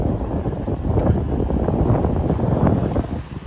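Outdoor breeze on a city street in Providence, Rhode Island, buffets the microphone in a steady rushing gust that swells and dips slightly across a few seconds, with no voices.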